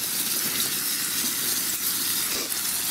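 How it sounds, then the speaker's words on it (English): Steam hissing from a steak cooking inside a tent on a wild camping trip, a close, continuous broadband sizzle and hiss. "I've got the vent open here, so all the steam's going out."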